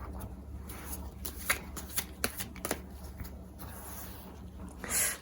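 Tarot cards are shuffled by hand before a draw: soft, quiet riffling and patter with a few sharper card snaps spread over several seconds, close up and without talking.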